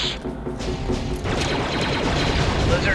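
Blaster fire and explosive booms from the Star Wars: Republic Commando shooter game build into a dense, loud barrage after a brief quieter start, with faint voices mixed underneath.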